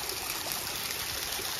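Water tumbling over a small series of waterfalls at Excelsior Glen near Seneca Lake, a steady broadband rush and trickle throughout, moderately near, with no voices.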